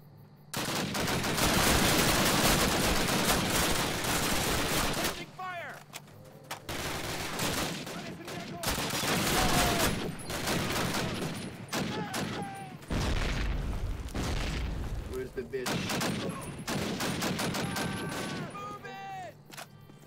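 Call of Duty game gunfire: loud, close bursts of rifle and machine-gun shots in rapid volleys, broken by brief pauses and a heavy boom, with a voice speaking now and then between shots.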